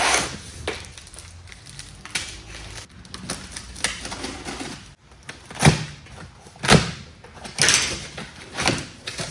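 A cardboard box holding a Titanium 65 plasma cutter is cut open close by with scraping, tearing strokes and sharp rustles and thuds, the bursts growing louder and more frequent in the latter half.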